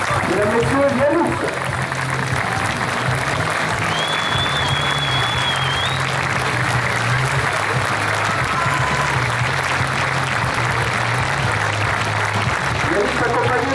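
A football ground crowd in La Ciotat, France, keeps up a sustained wash of clapping and cheering for a young guest of honour, with an announcer talking over the ovation throughout.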